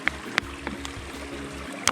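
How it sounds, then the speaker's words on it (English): Creek water flowing along a hiking trail, a steady soft trickle and burble with a low rhythmic pulse underneath and a few brighter clicks and splashes, fairly close. "Some high quality creek water."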